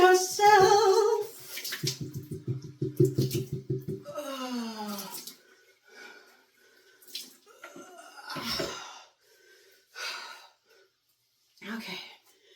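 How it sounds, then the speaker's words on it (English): Running water rinses freshly dyed blue hair, splashing in bursts at first and then dropping to intermittent trickles, with voices talking and breathing over it. "it's been rinsed from the front with the lighter color blue."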